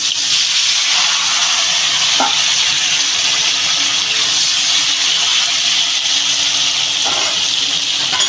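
Pieces of elephant foot yam frying in hot oil in a home kitchen, a loud steady hiss and sizzle with brief crackling pops.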